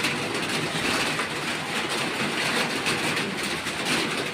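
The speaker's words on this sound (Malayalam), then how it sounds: "പക്ഷെ മഴ വീഴുന്നുണ്ട് ഫ്രണ്ട്സ്." Steady evening rain pours down in a dense, even hiss that fills the whole scene without pause, with a low rumbling undertone beneath it and no voices.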